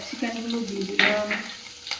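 Capsicums tossed into a pan with onion, carrot and cloves sizzle and crackle faintly, with a light stirring scrape and a clink of a utensil against the pan.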